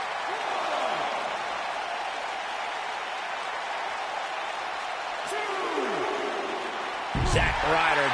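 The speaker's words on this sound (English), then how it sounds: "Listen to this crowd." Wrestling match crowd during a handicap match, a dense, sustained roar of cheering and applause throughout, swelling louder near the end with sharp impacts.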